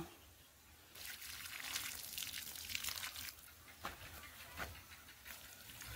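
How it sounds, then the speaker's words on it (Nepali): Water poured slowly by hand onto young squash seedlings in soil, a soft steady trickle starting after a second of quiet and running on with a few brief splashes, faint and close. "अब चाहिँ म बिस्तारै पानी हाल्छु।"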